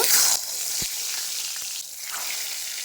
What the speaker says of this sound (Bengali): তেল গরম হয়ে গেছে, ম্যারিনেট করা বেগুন দিয়ে দেব।